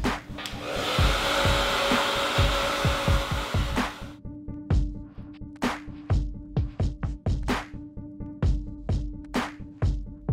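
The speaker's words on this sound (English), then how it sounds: "I'm going to go in with some warm air and accelerate the drying process" A hair dryer blows warm air to speed drying of freshly styled, balayage-coloured hair, running loud and steady for about four seconds, then cutting in and out in short bursts with clicks and handling knocks between.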